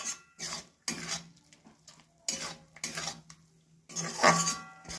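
A spatula scrapes and stirs turmeric, chili powder and ground cumin-coriander moistened with shrimp-washing water in a cooking pan, in short, separate bursts of close metallic scraping with brief pauses between them.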